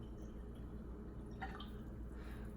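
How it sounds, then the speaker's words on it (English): Tea steeper set on top of a clear water glass releases its brewed tea, a brief trickling, dripping pour heard over a steady low background hum. "You just put it on top and it just pours it in."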